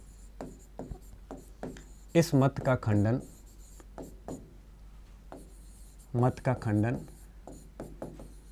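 Chalk or marker taps and scratches across a board during a Hindi-language history lecture, with short strokes in bursts, under and between a teacher's speech.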